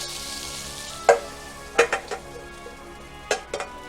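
Cooked shrimp lifted from a hot pan into a bowl: a few sharp metallic clinks and scrapes of utensil on pan over a steady background sizzle, close and alone.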